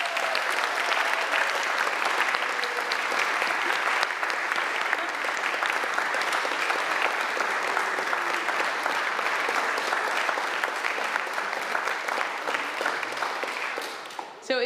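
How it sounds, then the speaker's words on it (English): Sustained audience applause for a staff member's new full-time role fills the room, dense and steady clapping from a crowd that holds evenly for about fourteen seconds before trailing off at the end. "And let's clap again."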